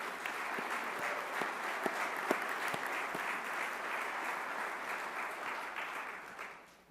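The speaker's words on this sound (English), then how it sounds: "can we give her a round of applause?" A conference audience at the 83rd Annual Meeting opening plenary in San Francisco, 2015, applauds Mayor Freeman Wilson. Sustained, full applause with a few sharper individual claps standing out early, fading away at the very end.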